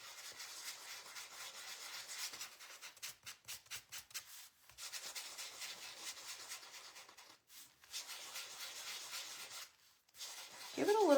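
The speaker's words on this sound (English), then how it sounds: "let's go back over it and just sand lightly" Sandpaper rubs lightly over a wooden beach hutch in a series of soft, rasping strokes, close by, with brief pauses between passes and a short sharper sound at the end.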